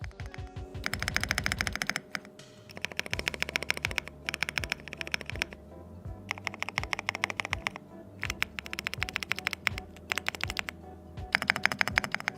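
An IQUNIX ZONEX75 mechanical keyboard with PCB-mount stabilizers and foam fillers is typed on, giving bursts of rapid, crisp clacky keystrokes with heavier thocks between them, close and clear with no voices.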